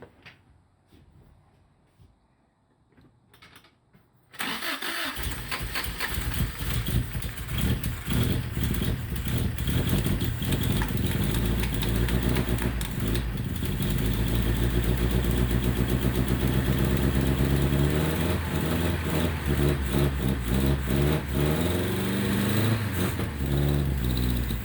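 A 1977 Toyota Celica GT engine, rewired after an engine fire, cranks and catches, then idles loud and close with rough revving swells for about twenty seconds after a brief quiet start.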